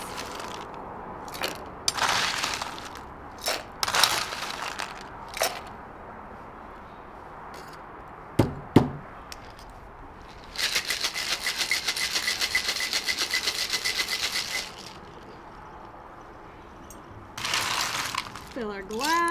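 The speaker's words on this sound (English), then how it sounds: "And then we shake again with ice." A cocktail shaker holding a whiskey sour with egg white, lemon juice and ice is shaken hard. Scattered clinks and rubs lead into a sustained, loud, rhythmic rattle of ice lasting several seconds, then a shorter burst near the end.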